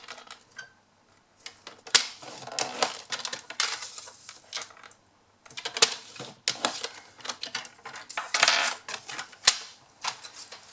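Paper is scored for a notecard gift bag, giving quick bursts of crisp clicking and scraping strokes separated by short pauses. The sounds are close and there is no speech.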